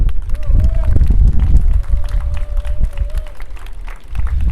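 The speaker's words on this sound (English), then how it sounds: "if you love them and you appreciate them, just give them a round of applause" A crowd at a school commencement claps in dense, steady applause that holds throughout, with a faint tone and low babble mixed in.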